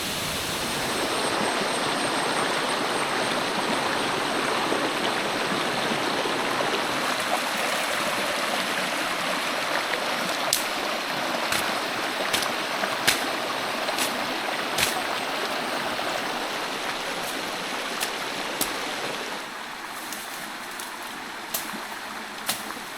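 A rainforest waterfall pours into a pool below, a loud, continuous rushing roar heard close and steady throughout, with a few faint clicks over the top.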